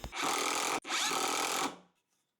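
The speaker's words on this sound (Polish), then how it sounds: "Po nawierceniu naszych otworów pilotujących możemy bez obaw wkręcić nasze szpilki." Threaded pins being driven into pre-drilled pilot holes with a power tool in a workshop: two loud, close, continuous bursts of whirring, split by a brief pause, then a quick wind-down to silence.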